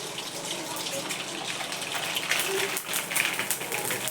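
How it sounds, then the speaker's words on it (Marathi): Nylon sabudana, dried sago pearls, frying in a small amount of hot oil, a steady close bubbling hiss that swells and crackles a little louder midway, with no talk over it. "तर मी थोडासा तळून दाखवते तुम्हाला"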